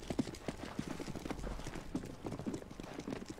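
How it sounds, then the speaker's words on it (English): Rapid footsteps patter steadily across a hard surface in Counter-Strike: Global Offensive, mixed with scattered thuds and background game noise, with no talking. "I turned the volume of footsteps up."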